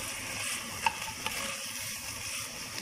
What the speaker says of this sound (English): just give it a quick stir.